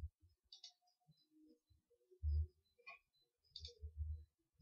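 Computer mouse clicks while installing barcode label software: a few sharp, isolated clicks spaced seconds apart, mixed with soft low desk thumps in an otherwise quiet room.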